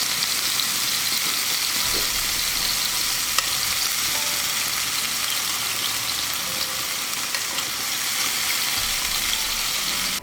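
Fish pieces for a Kerala-style fish molee sizzle steadily in hot oil, a dense continuous close-up frying hiss with faint occasional clinks, alone without talk.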